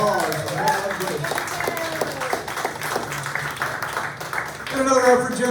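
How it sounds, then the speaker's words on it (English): Applause from the audience at a spoken word open mic in an art gallery, moderate and steady clapping under a speaker's ongoing voice, rising briefly louder near the end. "No round of applause for Mad LUNDQUIST."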